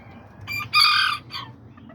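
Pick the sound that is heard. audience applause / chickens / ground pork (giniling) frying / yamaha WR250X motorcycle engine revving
chickens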